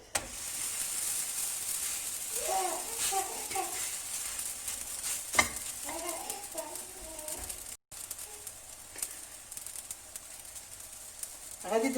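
Msemen flatbread cooking in a preheated pan, giving a soft steady sizzle and hiss with occasional scrapes and handling sounds, while a voice speaks briefly now and then.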